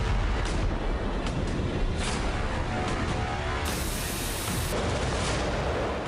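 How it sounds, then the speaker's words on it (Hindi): A steady, heavy roar with scattered sharp booms of distant bombing on a Ukrainian front, no single standout blast, constant loud rumble throughout. "काउंटडाउन पूरा होते ही एक जोरदार धमाका होता है।"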